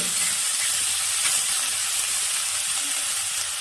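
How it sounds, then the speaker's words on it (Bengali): Pieces of chitol fish fry in hot oil in a pan, a loud, continuous sizzle and hiss that runs steadily throughout without pause. "একটু ভালো করে ভেজে নেব"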